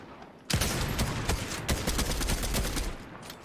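A burst of gunfire in Fortnite starts abruptly and rattles on as a rapid volley of close, loud shots for about three seconds before trailing off.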